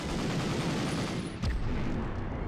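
Gunfire from a hip-fired gun in the Medal of Honor video game, a dense continuous barrage of loud shots with a sharper burst near the middle and no talking.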